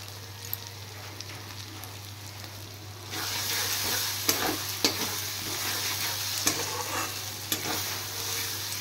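Spice masala with ground garam masala frying for a Bengali fish dish, a soft hiss that swells into loud steady sizzling partway through, punctuated by several distinct stirring scrapes.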